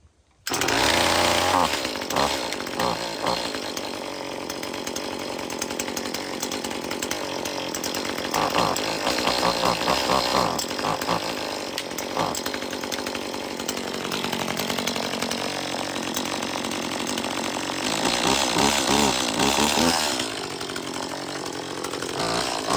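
An ECHO micro chainsaw, CS-2511T or DCS-2500T, runs close and loud with a buzzing two-stroke drone that rises and falls as the throttle is blipped, sustained nearly throughout after a brief start.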